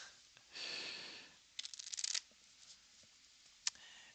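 A deck of playing cards being shuffled close up: one long riffle, then a sharper burst of rapid fluttering card snaps, followed by a few quiet handling taps and one crisp single snap in an otherwise quiet room.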